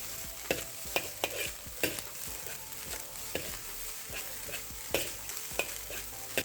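Halibut fried rice with a sprinkle of white pepper being stirred in a hot pan, with a steady sizzle and repeated sharp scrapes and clacks of the utensil against the metal, no talking.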